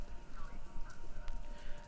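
In the game Kentucky Route Zero, hooves of running horses, as at a race, patter faintly and rapidly over a hissing, static-laden radio broadcast.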